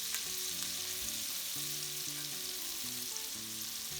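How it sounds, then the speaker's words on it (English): Pork chops fry in a pan of melted butter with garlic, giving a steady, close crackling sizzle that carries on without a break, while soft background music plays underneath. "So this butter is really going to help to bring some brownness to the exterior of the pork chops."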